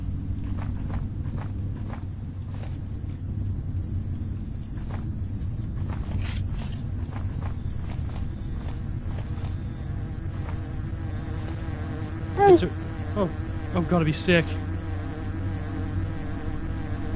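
A dense swarm of bees buzzing in a video game, a continuous close drone with louder passes, while footsteps and a brief spoken line come through near the end.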